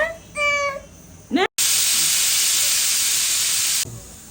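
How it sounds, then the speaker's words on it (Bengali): A pressure cooker whistle blows loudly while cooking ilish fish bhappa, a steady hissing blast of released steam lasting over two seconds, preceded by brief clicks and a rising tonal squeal. "হইলো, দুটা সিটি হয়ে গেল"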